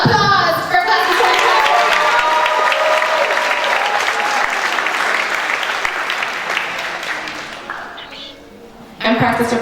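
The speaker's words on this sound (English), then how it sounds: "applause for class of" Sustained applause from a crowd at a middle school graduation ceremony, honoring the class of 2024; dense clapping fills about eight seconds, gradually thinning, before a voice resumes.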